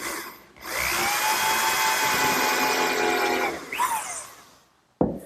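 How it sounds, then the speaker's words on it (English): A power drill drilling a hole in wood whirs steadily for about three seconds, winding down with a brief falling whine, then a sharp knock at the end. "And I'll drill a hole right at the top edge."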